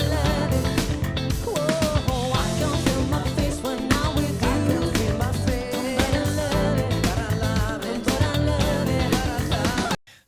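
A full funk song mixdown plays loudly and continuously with drums, bass, keyboards, guitars and vocals before stopping abruptly.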